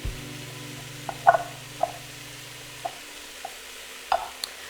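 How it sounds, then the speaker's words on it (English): Shrimp and vegetables are tossed with seasoning for Rasta pasta, giving a few soft, scattered clinks and taps of a utensil against a bowl over a low steady hum in a quiet kitchen. "And just toss to coat lightly with the seasoning"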